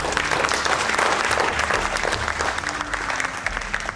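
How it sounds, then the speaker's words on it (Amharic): Warm studio audience applause for three contestants on a televised cooking competition, a loud, even wash of clapping sustained for several seconds and easing slightly toward the end, with low tones in the background. "ለነዚህ 3 ተወዳዳሪዎች ሞቅ ያለ ጭብጨባ"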